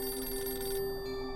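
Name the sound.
telephone ringing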